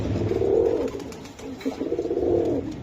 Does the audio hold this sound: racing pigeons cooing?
yes